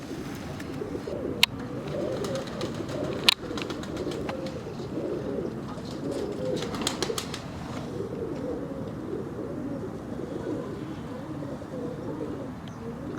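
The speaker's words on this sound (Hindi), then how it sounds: "काफ़ी बड़े पल्ले का कबूतर है माशाल्लाह" A large pigeon on a rooftop coos in soft repeated low calls under a steady background hum, with a few sharp clicks and knocks nearby and faint chirps, and no talk.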